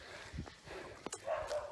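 A dog in Jamaica gives a few short, quiet barks and yips at a distance, spaced irregularly against outdoor background noise.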